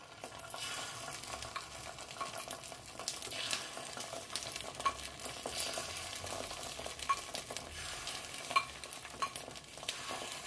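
Egg batter spooned into a greased pan of hot oil for egg balls sizzles in a steady, close hiss, with faint clinks of utensils scattered through it.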